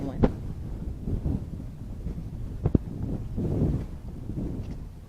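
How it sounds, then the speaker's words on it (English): Wind buffets a camera microphone outdoors on a nature park walk, a steady low rumbling roar with occasional sharper bumps and gusts. "The wind is definitely blowing."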